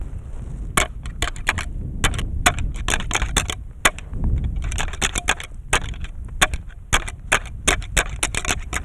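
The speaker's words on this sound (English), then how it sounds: "right after I got into the rattling, hitting those horns together" Deer antlers are rattled and clashed together to call whitetail bucks on a frigid Montana hunt, a sharp, irregular run of loud clacking hits and grinding ticks, close and continuous with no talk.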